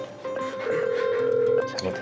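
Telephone ringing while a call is being placed, a single sustained electronic ring tone lasting about a second, close and clear.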